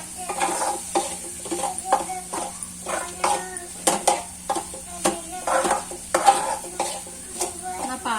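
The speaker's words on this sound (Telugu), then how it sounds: "సరిపడా కారం వేసుకొని కారం పచ్చివాసన పోయేదాకా వేయించుకోవాలండి." Chili powder frying in a pan of fish curry, with a spoon repeatedly scraping and stirring against the metal in an uneven rhythm over a soft, steady sizzle and faint kitchen hum.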